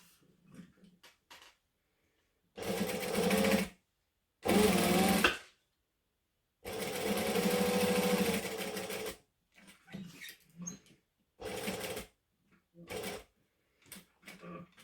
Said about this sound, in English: I'm going to stitch across, down, across, and up